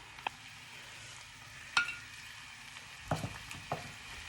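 Mushrooms frying in a pan, a steady soft sizzle running throughout with a few sharp clinks and scrapes of stirring at intervals.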